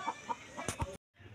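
A few short clucks from a nearby chicken, spaced irregularly, followed by a brief silence and a low murmur.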